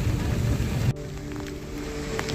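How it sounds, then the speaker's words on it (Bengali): Rain falling with wind at night on a roadside in the Dooars forest area, a steady hissing wash that drops abruptly to a softer, quieter patter partway through. "এদিকে মেঘ গর্জন করছে, বৃষ্টি পড়ছে, হাওয়া হচ্ছে।"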